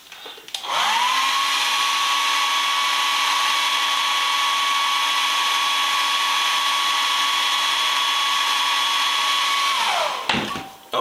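A hot air blower runs on its high heat setting to warm rosin sealant, starting up with a rising whine, holding a loud steady tonal roar for about nine seconds, then spinning down and cutting off.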